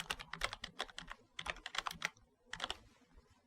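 Typing on a computer keyboard: quiet, close bursts of rapid keystrokes in three clusters with short pauses, no voices.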